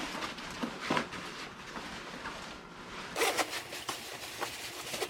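A Canada Goose Expedition parka being zipped closed, with a steady ratcheting zipper rasp across several strokes, close and moderately loud, one stronger pull midway.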